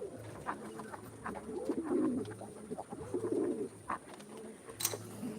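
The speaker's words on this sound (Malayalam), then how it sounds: "ഇതാ സാറ്റ് പ്രാവ് എൻ്റെ കൂട് തുറക്കണം" Pigeons, including black satin pigeons, coo softly in a backyard coop among other poultry, with repeated low, rolling calls running steadily through the clip and fainter chirps and rustling around them.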